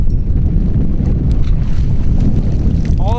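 Strong wind buffets the microphone outdoors while fishing from a boat, a constant loud low rumble that covers everything else for the whole stretch.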